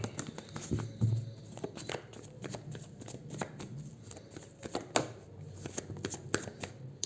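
Tarot cards being shuffled by hand in repeated soft riffling and tapping bursts, close and fairly quiet, with faint room noise between.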